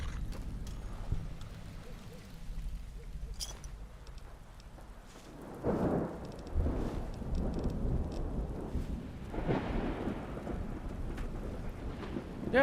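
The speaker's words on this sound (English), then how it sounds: "They have like in-game rain, but you can barely tell. It's just the sound effects, really." Rain and rumbling thunder in the video game Fallout: New Vegas, a steady wash of rainfall with deep low booms swelling in the latter half, continuous and moderately loud.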